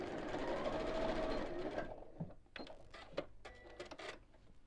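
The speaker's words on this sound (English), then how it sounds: "And then we'll sew straight across." Sewing machine running a straight seam across the end of fabric for a ladies' evening bag, a steady close whirring burst that stops after about two seconds, followed by faint handling clicks.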